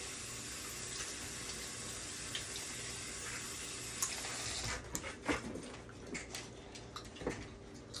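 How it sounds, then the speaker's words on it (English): Food rinsed under a running kitchen tap, a steady close hiss of flowing water that turns to uneven splashing and spattering as it strikes the food, with no talk. "I'm going to rinse this one out"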